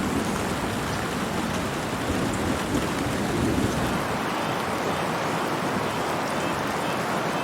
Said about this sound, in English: Storms rolled through